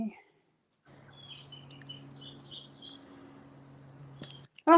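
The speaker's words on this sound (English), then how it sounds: "the birds are sounding so good over there, Florida" Birds sing outdoors in Florida, scattered high chirps and tweets over a low steady hum, faint and somewhat distant, ending with a brief louder burst.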